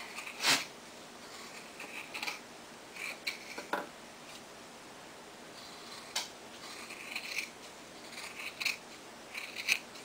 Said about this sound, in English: I take my scissors and I'm going to give it about 1/8 of an inch and sew, and I'm going to cut around the seam line